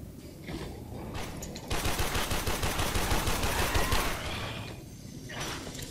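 Gunfire in the video game Warframe comes in a sustained rapid burst of automatic shots lasting a couple of seconds, framed by shorter clattering shots and mechanical game sounds, loud and close with no talk.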